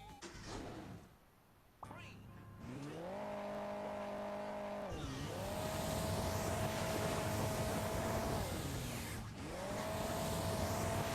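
A rally car revs and races in the Hill Climb Racing 2 mobile game: a synthetic engine drone climbs and holds at steady pitch, dips and surges again, loud and continuous after a brief quieter start.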